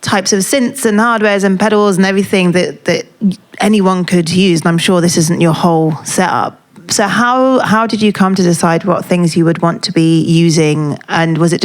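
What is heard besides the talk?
No everyday noises stand out.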